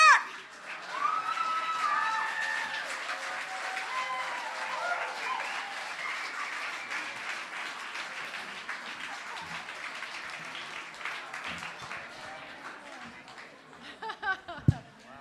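A New York theatre audience applauds at the close of a show, the clapping steady and full for most of the stretch before thinning out, with some cheering and scattered voices mixed in.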